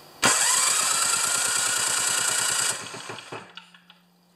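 The electric starter on a John Deere TRS 24-inch snowblower cranks the engine over in rapid rhythmic chugs for about two seconds, then winds down to a few faint knocks against a steel table.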